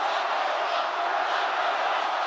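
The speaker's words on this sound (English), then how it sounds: "The crowd chanted "Lock her up" at every Trump rally" A rally crowd chanting "Lock her up" at a Trump campaign rally, a dense, steady roar of many voices heard from a distance, with no individual voice standing out.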